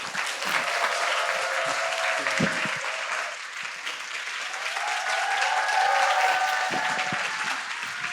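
A seated studio audience at a Korean talk show gives steady, full applause welcoming a guest professor, dense clapping sustained throughout with a slight swell near the end.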